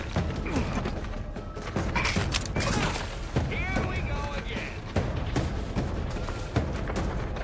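Gunfire and launched explosives in the video game The Outer Worlds 2, scattered shots, thuds and booms mixed with mechanical creaks and whistling projectiles, loud and close, under intermittent speech.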